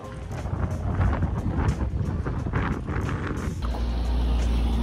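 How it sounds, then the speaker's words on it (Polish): Strong wind buffets the microphone near a port in Bordeaux, a loud, continuous gusty roar with surging bursts and low rumble, no voices heard. "jak wieje"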